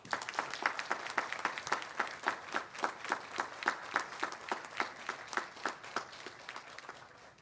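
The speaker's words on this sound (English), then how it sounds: "express thanks for the support received from them over the years, by acclamation, applause" An audience at a 2021 graduation ceremony claps steadily for several seconds, a dense run of hand claps at moderate distance, with no cheering.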